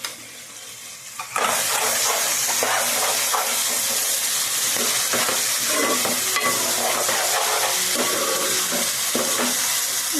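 Ginger and shallot paste drops into hot oil with curry leaves for an egg masala curry and bursts into a loud, sudden sizzle that settles into a dense, continuous frying crackle close by.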